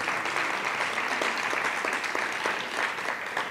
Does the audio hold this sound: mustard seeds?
no